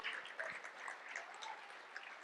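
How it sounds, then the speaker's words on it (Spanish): Faint congregation applause at a church service, soft and distant, continuous for a couple of seconds. "Dale un aplauso al Señor."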